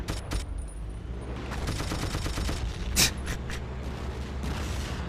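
Rapid gunfire in a video game, with volleys of shots crackling over a constant rumbling battle background and one louder blast near the middle, fairly close and with no talk.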